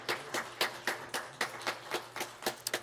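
Sparse, scattered handclaps in a church during a Bible lesson, about a dozen distinct claps at an uneven rhythm, fairly faint and close, with no voices.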